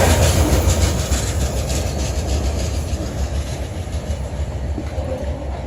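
A Norfolk Southern wood chip freight train led by two NS locomotives rolls past steadily and loudly, a continuous rumble with rail clatter that holds for the whole stretch and eases off only slightly toward the end.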